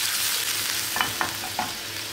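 Homemade tomato sauce cooks in a hot pan on the stove for an eggplant meze, a constant bright sizzle with a few light utensil taps and stirs near the middle, heard up close and without talking.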